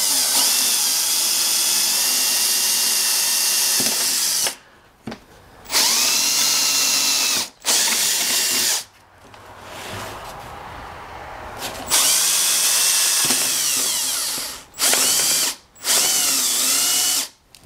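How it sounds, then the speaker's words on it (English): Power drill boring a hole with a 1/4 inch bit while fitting a fuel tank onto a Husqvarna leaf blower, several whining bursts of motor with brief stops and restarts between them. "Now I'll grab my 1/4 inch bit here. And now if I drill right at about here"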